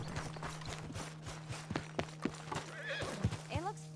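In the Red Dead Redemption 2 video game, horse hooves clip-clop in a steady walking rhythm close by, ending in a rising whinny, with a voice talking over it.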